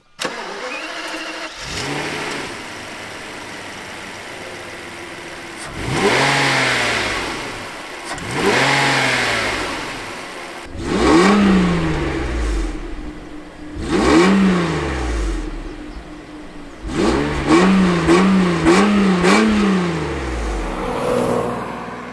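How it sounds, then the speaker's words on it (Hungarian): A 1993 Mercedes-Benz 600 SL AMG V12 engine revs repeatedly, each sharp rise in pitch dropping back to a deep idle, loud and close, with quick blips near the end. "Meg kell szokni a V12-es motor hangját"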